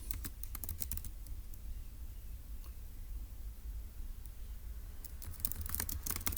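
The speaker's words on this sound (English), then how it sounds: "let's go and type that up" Bursts of computer keyboard typing, quick irregular key clicks clustered at the start and again near the end, with a quieter stretch of room noise between them; no talking.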